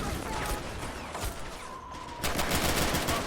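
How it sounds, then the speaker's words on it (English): Dense battlefield gunfire from the WWII game Men of War: Assault, set at Stalingrad, with rifle shots amid a continuous crackle of distant firing, louder again toward the end. "Seems to just be a rifle. Firing at that AT gun, it seems."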